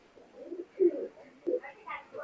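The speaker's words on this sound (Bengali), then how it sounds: "খুবই সুন্দর এক পেয়ার কাসরি কবুতর" A pair of Kasri pigeons in a cage coo softly and closely in short, repeated throaty phrases.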